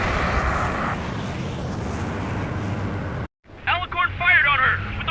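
Submarine-launched aircraft in Ace Combat 7, a loud, broad roaring rush that holds steady for a few seconds, cuts off abruptly, then gives way to a voice talking over quieter rumble.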